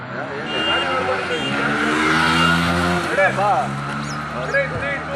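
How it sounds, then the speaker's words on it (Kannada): A vehicle rolls past on a road with a droning engine that rises and sweeps by, while people talk over it. "ಗಾಡಿ ಬರ್ತಾ ಇದೆ ನೀವು ಜರ್ಕ್ ಹೊಡಿಬೇಡಿ ನೀವು ನೋಡ್ಕೊಂಡು ಪಾಸ್ ಆಗಿ"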